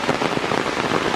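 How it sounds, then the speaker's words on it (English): Summer rain falling in Ohio River Bluffs Nature Preserve woods, a dense, steady patter of drops on leaves, close and fairly loud for a brief moment with no voices. "it's nice to walk in the woods in the summer rain"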